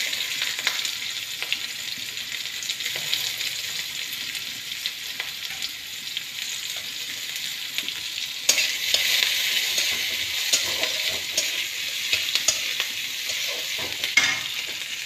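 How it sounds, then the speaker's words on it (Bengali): Onions fry in oil in a pan, a continuous close sizzle with irregular stirring clatter and brief louder flare-ups, no one speaking. "পেঁয়াজটা খুব বেশি ভাজার দরকার নেই"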